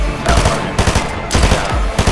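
Loud, rapid automatic gunfire in the Fortnite video game, sustained bursts of close shots rattling almost continuously with brief gaps and no talking.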